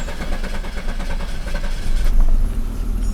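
An Audi 90 engine cranking and catching after repair work, a dense low mechanical rumble that swells louder near the end as it fires, close by with no talk.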